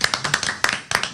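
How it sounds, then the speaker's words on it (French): A small audience claps for a band after a studio session, a few scattered hand claps in loose bursts, close and fairly sparse. "On vous applaudit."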